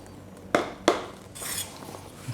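Glass jars holding gin and sugar rattle and clink as they are shaken, two sharp close knocks followed by a looser sloshing, jangling stretch, with no voices.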